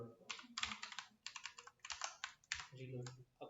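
Rapid typing on a computer keyboard, close and crisp, with bursts of clicking keystrokes in uneven rhythm and short pauses, a faint voice underneath.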